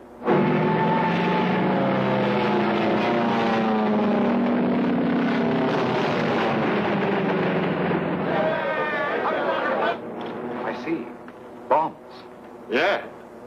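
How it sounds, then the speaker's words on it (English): A squadron of attacking aircraft flies overhead in a 1943 war film set in Iraq, a loud, steady multi-engine drone with shifting tones that thins out toward the end into a few short bursts. "Captain Carson calling squadron commander. Proceed with attack"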